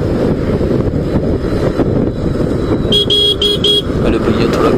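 Car horn honks in busy highway traffic, a short burst of repeated toots near the end over steady engine and wind roar from a Pulsar motorcycle weaving through vehicles.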